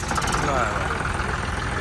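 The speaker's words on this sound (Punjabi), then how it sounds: "ਹੈਪੀ ਕਹਿੰਦਾ ਥਾਰ ਵਰਗੀ ਸਟਾਰਟਿੰਗ ਹੈ ਟਰੈਕਟਰ ਦੀ" A tractor engine runs with a rough, steady rumble while someone talks over it close by.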